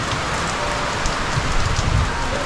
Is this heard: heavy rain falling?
yes